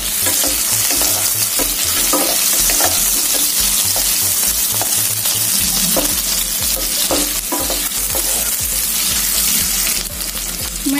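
Potatoes fry in a hot kadai in a village kitchen, a loud, steady sizzle with stirring scrapes, and a brief watery rush near the end.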